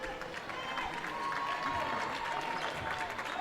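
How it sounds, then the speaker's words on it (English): Crowd of St. Edward's fans cheering steadily through a NCAA Division II basketball game against Lubbock Christian, a dense continuous roar of voices and claps filling the arena at constant loudness. "St. Ed's fans cheering on their team here"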